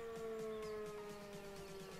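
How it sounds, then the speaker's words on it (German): A fire siren wails in the video game Landwirtschafts-Simulator 17 during a smoke alarm call to an old workshop, a steady sustained tone slowly sliding lower, fairly faint with no voices. "Die Sirene läuft."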